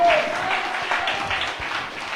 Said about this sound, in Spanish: Dele un aplauso al Señor con gozo y con alegría